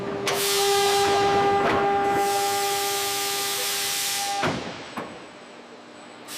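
A CH-53K King Stallion helicopter blade fold mechanism runs with a loud steady hissing, whining drone and a couple of clunks, then cuts off with a sharp hydraulic release and softer residual hum.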